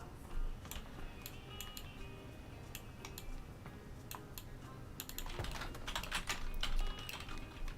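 Computer keyboard typing close by, with bursts of quick key clicks and shortcut presses, sparse at first and then denser, heard without any talking.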